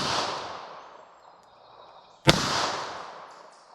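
.327 Federal Magnum handload fired outdoors at a dirt target range: one sharp, loud crack with a long fading echo, after the dying tail of an earlier shot.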